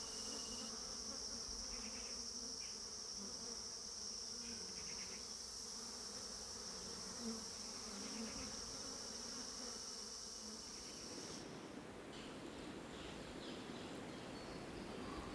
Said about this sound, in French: des abeilles ouvrières sont à l'œuvre